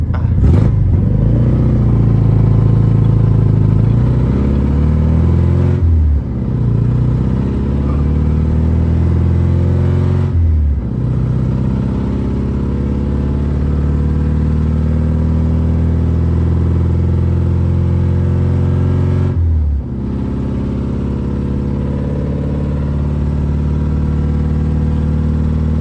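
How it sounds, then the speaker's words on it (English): A BMW E36 with a straight-piped four-cylinder engine drives along with a loud, raspy exhaust drone, rising through the revs with three or four brief dips at shifts, close and continuous throughout. "Car's a straight pipe 4-cylinder"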